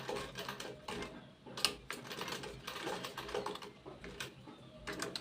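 A sewing machine stitches the lining of a handmade Olivia bag in a home sewing room, with quick rattling bursts of needle clatter that stop and start in uneven runs, close and fairly quiet, with no talk.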